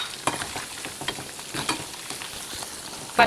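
Chicken 65 stirred in a pan, with a series of quick scraping and clattering strokes over a light, steady sizzle. The sound is close, and a louder knock comes at the end.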